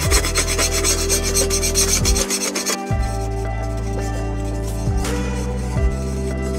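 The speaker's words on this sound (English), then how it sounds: "take this top plate off, take it over to the fire pit, and scrape all the crusty stuff off into the fire pit" A metal scraper rasps steadily across a hot flat-pack overlanding grill top plate, knocking crusted residue into a fire pit outdoors, a continuous close grinding scrape with no talk.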